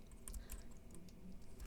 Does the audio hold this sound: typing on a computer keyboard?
yes